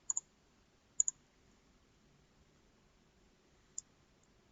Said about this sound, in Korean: 여기에서 오른쪽 버튼을 누르세요